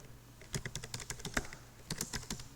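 Fingers tap out text on a computer keyboard in quick uneven bursts of close, crisp clicks, with a short pause in the middle and no voices.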